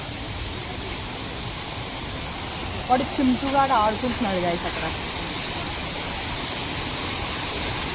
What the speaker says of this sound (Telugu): వాటర్ ఫాల్స్ మనం అక్కడ చూసాం కదా వాటర్ ఫాల్స్